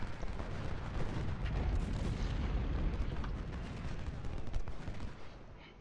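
Dense, rolling artillery and infantry musket fire from a Civil War battle in the Ultimate General strategy game, a continuous loud rumbling barrage of overlapping booms and volleys with no clear gaps.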